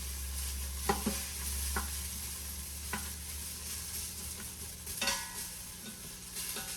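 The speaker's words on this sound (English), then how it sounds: "by putting a little bit of browning on these vegetables, what we're doing is we're going to lock in that moisture" Vegetables browning in a pressure cooker pot sizzle softly and steadily, with occasional scraping taps of a utensil as they are stirred, fairly quiet and close, without talking.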